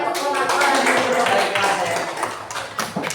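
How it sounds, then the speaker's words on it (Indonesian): A classroom of students claps steadily for a few seconds, the applause thinning toward the end, with some voices mixed in. "Tepuk tangan ya."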